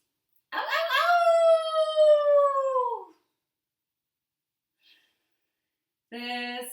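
A person imitates a long rising-then-falling howl like a dog's, loud and close, followed after a pause by the start of a second howl.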